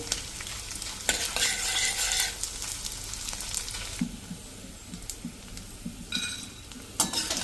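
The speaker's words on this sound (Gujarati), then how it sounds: "સ્લો ટુ મીડિયમ ફ્લેમ ઉપર ગુંદને એકદમ સરસ અંદર સુધી ફ્રાય થાય" Edible gum sizzles as it fries over slow to medium flame in a pan while a spoon stirs it, with steady crackling hiss and occasional scraping, clinking strokes against the metal, close and alone.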